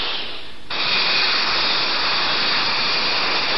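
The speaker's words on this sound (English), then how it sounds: "There are jets that can rise straight up and then hover, like this British Hawker P-1127." A British Hawker P-1127 jet hovers with a loud, steady, broadband roar that holds unbroken to the end after a brief quieter start.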